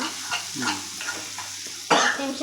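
Egg fry being stirred in a hot pan, a steady sizzle of frying with repeated scraping stirs, close and fairly loud, with a brighter burst of sizzling near the end.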